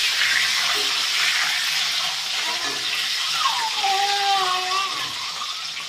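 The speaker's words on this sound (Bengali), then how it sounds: "ডিমগুলো ভালো করে ভেজে নেবে" Eggs fry in a pan for a Bengali egg and potato curry, giving a steady, close crackling sizzle with faint bubbling throughout.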